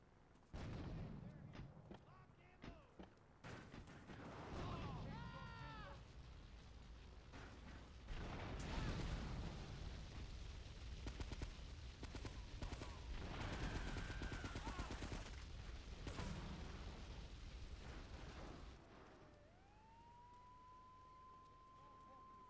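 Gunfire and explosions from the video game GTA 3, with micro SMG bursts and a grenade blast. The shots come in dense, rapid volleys over a long loud stretch, a siren-like tone rises near the end, and someone talks intermittently.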